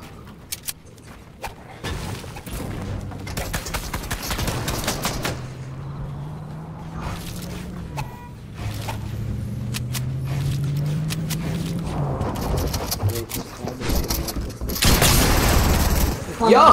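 Rapid gunfire bursts from a Fortnite arena match, crackling repeatedly over a steady game engine hum with a heavy closing volley, while players talk over the action.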